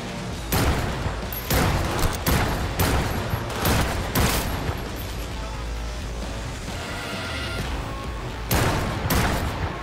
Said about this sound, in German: Ich wollte gerade schießen auf das Bein.